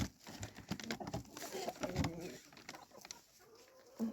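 Hens in a backyard poultry pen on a small farm cluck in short bursts at close range, with scattered rustling and movement around them.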